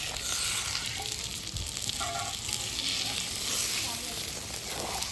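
Prawns and pabda fish curry with potol sizzle and bubble steadily in a pan just after water goes in, a continuous soft frying hiss with faint clinks, no speech.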